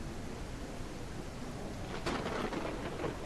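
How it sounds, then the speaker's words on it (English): Rain effects in a drifting video game, a steady wash of rainfall hiss at low level with a rumbling, thunder-like swell building partway through. "I can already hear the rain effects."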